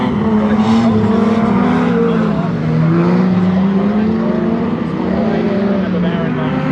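Standard Saloon race cars lap Sonic Speedway at Swan Hill with loud, steady engine drone that rises and falls in pitch as they pass, while a commentator talks over the noise.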